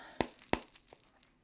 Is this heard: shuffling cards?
yes